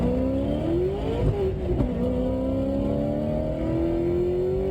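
A 1969 Camaro model slot car's small electric motor whines and revs as it speeds down a miniature racetrack, a steady whirring tone rising in pitch, fairly close and with no talk over it.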